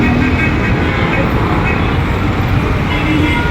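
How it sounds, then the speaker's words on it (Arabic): Heavy traffic on a congested Al-Galaa Street in Tanta on a Sunday forms a loud, dense, unbroken roar of engines and road noise close by, with car horns blending into the wash. "يا قلبي حبيت اصور لكم الزحمة في شارع الجلاء"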